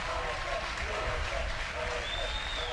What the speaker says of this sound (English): Big applause for Big Elmo.